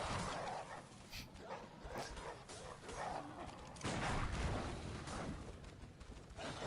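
Hostile dogs bark and snarl in the dark gothic action game Bloodborne, a steady stream of growls, yelps and barks mixed with combat noise and game effects, fairly loud throughout with no talking.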